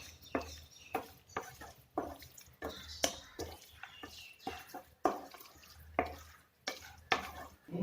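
A spoon scrapes and stirs beef curry in a pan in a slow, repeated rhythm of soft clacks and wet shuffling, close and fairly quiet, with a gentle sizzle underneath.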